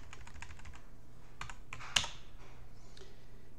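Computer keyboard typing during Ubuntu terminal work: a close burst of quick clicky keystrokes with one sharper louder key press midway, then a few sparse taps, no talking.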